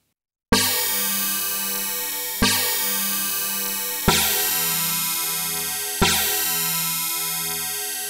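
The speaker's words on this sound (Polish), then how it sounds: "preset z tym brzmieniem, dostępny we współczesnej wersji syntezatora Synclavier, wydanej przez firmę Arturia, brzmi tak" Synclavier synthesizer preset from a song, in Arturia's modern software version, sounds four bright, struck bell-like hits, evenly spaced, each ringing into a long decay, with no talk.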